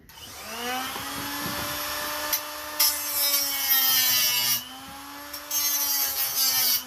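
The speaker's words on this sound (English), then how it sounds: "So I'm just cutting the welds." A power cutting tool whines as it cuts through welds on a tab of a Honda Civic muffler, its pitch rising and holding steady with bursts of harsh grinding noise, loud and close with no talking.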